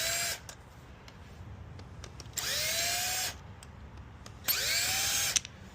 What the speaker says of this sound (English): you can just take a simple little Milwaukee drill with a Phillips head on it, a Phillips bit, and reverse both of those